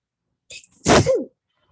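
A single sharp sneeze, loud and close, with a quick intake of breath before it and silence around it.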